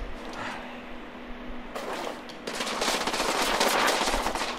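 Automatic gunfire in the video game The Order: 1886, a sustained rapid rattle of shots that starts and grows louder over the last few seconds, following a quieter stretch.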